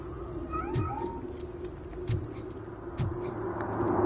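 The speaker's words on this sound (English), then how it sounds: "I heard a cat. Where'd the cat go?" A cat meows in the video game RoboCop: Rogue City, a few short meows spaced apart over a quiet ambient hum with faint distant background noise.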